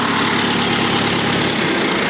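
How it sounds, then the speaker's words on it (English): A tractor engine idles steadily at a maple syrup-making site outdoors, a low, even rumble with constant vibration and no pauses. "Guess I'll have to shut the tractor down for now"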